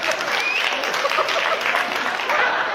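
A comedy show crowd applauds in a loud, steady burst of clapping, with some scattered whoops and laughter mixed in.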